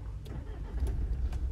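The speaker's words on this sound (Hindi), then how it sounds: "गाड़ी मैंने स्टार्ट करी तो कितना ज़्यादा गियर वाइब्रेट करा" Engine of a 2021 Mahindra Scorpio base model BS6 SUV starting, with a low steady rumble and a few faint clicks over the top, close up and fairly quiet, no talking.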